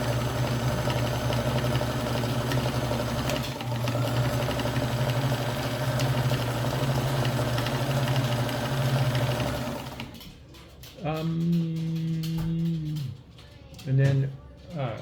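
A Kenmore 158.1400 sewing machine runs with a steady whirring motor and rhythmic needle clatter while stitching in reverse, then stops; a person then speaks over short bursts of the machine near the end.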